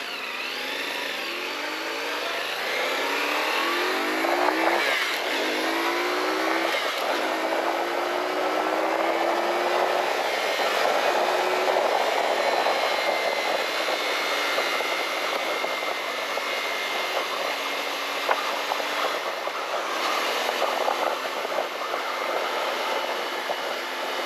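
A CF-Moto 450SS sport bike runs on the road while ridden, its engine note rising and falling through repeated revs and gear changes over continuous wind rush, heard close and fairly loud.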